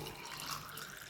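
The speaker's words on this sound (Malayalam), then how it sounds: "ജ്യൂസ് ഗ്ലാസ്സിലേക്ക് ഒഴിക്കാം." Green mango juice poured into a glass in one steady, continuous liquid stream, close and fairly quiet, with no other sounds.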